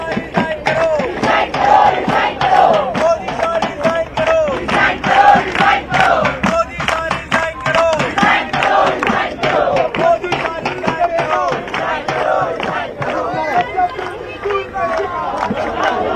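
A large crowd of protesters chanting anti-government slogans at the Gateway of India in Mumbai, loud rhythmic shouted calls repeating continuously amid crowd noise.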